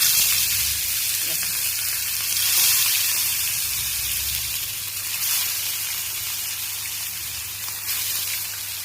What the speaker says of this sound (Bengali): তেলটা পুরোপুরি গরম হয়ে গেছে, তো আমি এবার মাছগুলো এক এক করে ছাড়ছি